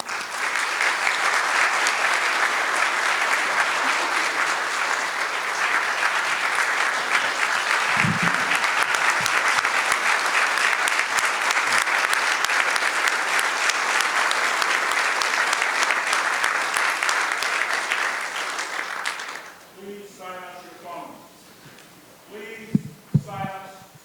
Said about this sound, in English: it is my great pleasure to welcome Dr. Norman Finkelstein. Everybody clap.